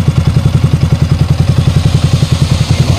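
A Yamaha Sniper 155 motorcycle engine with an overheating problem and a faulty cooling fan runs loudly up close, holding a fast, even, throbbing pulse with a rattling clatter and no voices.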